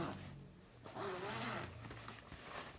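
A zipper on a stroller rain cover slides open in a couple of rasping pulls, close by, with faint rustling of fabric and no talking.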